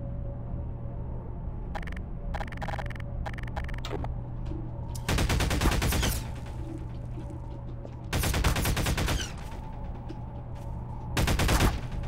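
Automatic weapon fire in Half-Life 2: Episode One, with three dense bursts of rapid shots lasting about a second each, separated by quieter game ambience with scattered clicks.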